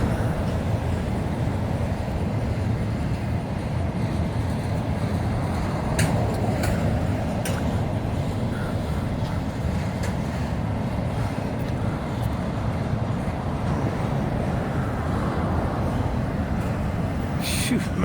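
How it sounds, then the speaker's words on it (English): A massive FECR freight train passes, a continuous low rumble and rolling rail noise that holds steady throughout, with a few faint higher clanks, heard from nearby without talk. "Massive train again."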